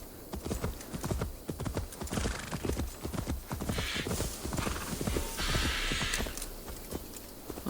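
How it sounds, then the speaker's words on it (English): Horse galloping in Assassin's Creed Valhalla, rapid rhythmic hoof clip-clop beats on the ground throughout, close and steady, with a whinny-like tone briefly rising in the middle. "call my horse for this one."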